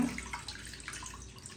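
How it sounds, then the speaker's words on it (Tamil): Tamarind water, already dissolved, splashing and trickling as it is poured into a cooking pot for a pulithanni recipe, a short close liquid pour that fades slightly toward the end. "கரைச்சி வச்ச புளித்தண்ணியை சேர்த்துக்கலாம்"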